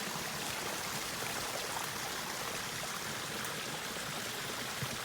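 Water in a mountain garden water feature runs in a steady, continuous rush, close and fairly loud, with no voices over it.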